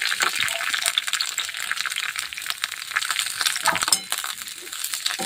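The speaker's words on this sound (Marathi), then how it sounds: "तर तेल छान गरम आहे आता आपण ज्या गवारच्या शेंगा घेतलेल्या आहेत त्या टाकायच्या" Cluster beans (guar) frying in hot oil, crackling and sizzling under a scatter of metallic clinks from stirring in the pan, with no talking.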